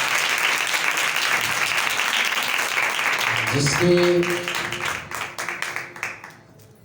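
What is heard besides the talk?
congregation applauding loudly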